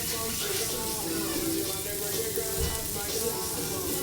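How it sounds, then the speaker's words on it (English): Onions frying in a cast iron pan, a steady close sizzle with soft scraping as they are stirred and broken apart, continuous throughout. "we're gonna give it a little stir, break apart the onions so that everything can cook and caramelize"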